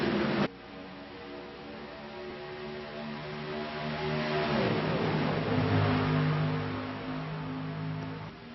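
Race cars at Daytona accelerate after the green flag, engines swelling from a steady drone into a louder pass-by with a sweeping pitch change, then holding a sustained roar.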